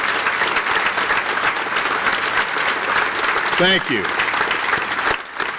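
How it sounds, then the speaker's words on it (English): An audience gives a sustained round of applause to the NASCO shipyard employees at a ship launch ceremony, loud and continuous, while a voice speaks over it partway through. "please stand so we could give you a round of applause"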